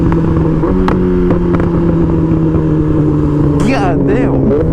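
A motorcycle cruises along the road on the way to the bank, its engine a steady close drone under rushing wind, with the pitch climbing and wavering as it accelerates toward the end.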